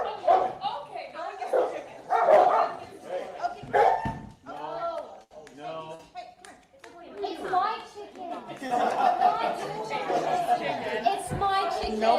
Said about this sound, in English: his dog lashing out and attacking another dog